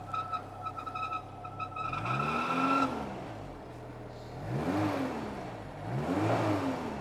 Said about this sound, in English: It's got a dump valve.